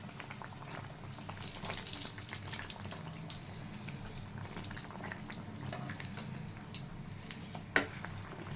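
Maida malpua fry in oil in a pan, a faint steady bubbling sizzle that runs throughout with small crackles and no talk.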